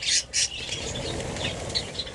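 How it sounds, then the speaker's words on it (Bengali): A budgerigar chick flaps its wings as it flies off, two quick bursts of fluttering at the start, close by, then softer rustling movement with no talk. "বার করতে সঙ্গে সঙ্গে উড়ে চলে গেল"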